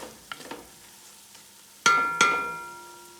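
Bobotie mixture stirred in a pan makes a few soft scrapes, followed by two bright metallic clangs of a utensil striking the pan, each ringing out for a moment over faint sizzling.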